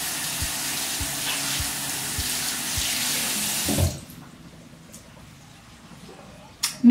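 Hot tap water runs into a sink to wet a face wipe, a steady close splashing rush for about four seconds that stops abruptly, leaving quiet room tone and a small clunk at the end.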